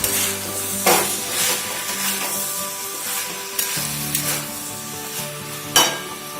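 Fried pointed gourd tipped into sizzling potatoes in a pan, then stirred: loud close frying hiss with a few sharp scrape and clatter bursts from the spoon, no voices.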